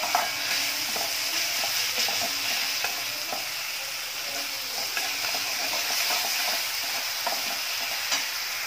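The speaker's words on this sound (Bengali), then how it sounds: "এবার মশলাটা আবার একটু ভালো করে কষিয়ে নিতে হবে।" Spice masala for katla fish, seasoned with salt and made without ginger-garlic paste, sizzles gently in a pan while being stirred, with soft, repeated scraping strokes over a low, steady frying hiss.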